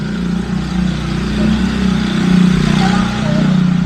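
Motorcycle engines running nearby, a steady low rumble at idle that holds throughout, with people talking over it.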